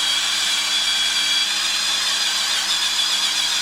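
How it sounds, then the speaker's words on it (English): Steady, continuous high-pitched hiss of a power sander or buffer working over the finish of a blue Stratocaster guitar body, close and loud, holding an even level throughout without pauses or talk. "Why don't you do another 30 seconds of sanding or buffing"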